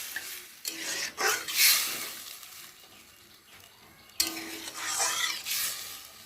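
Spiced potato curry is stirred in a pot right after water goes in, giving bursts of scraping and sloshing that come in two loud spells separated by a quieter stretch of low bubbling.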